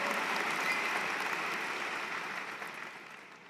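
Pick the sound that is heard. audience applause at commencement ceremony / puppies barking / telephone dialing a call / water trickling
audience applause at commencement ceremony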